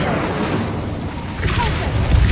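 An Incendio fire spell is cast in a Harry Potter video game, a short, loud rushing whoosh of flame that swells into a low rumbling boom near the end.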